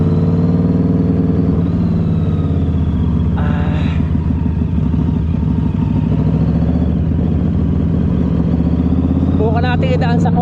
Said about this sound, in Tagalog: Solid ang tunog. Talagang big bike ang dating.